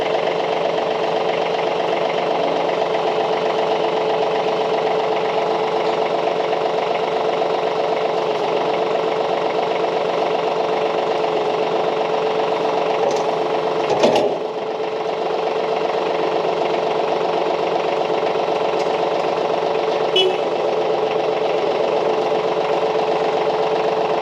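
A Branson 2515h tractor engine runs at a steady idle, a continuous, even mid-pitched drone with a slight knock, close and loud throughout with no talk.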